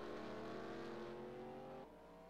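NASCAR Cup race cars lapping the Mid-Ohio road course in qualifying, a loud sustained engine drone with shifting revs that drops off sharply near the end.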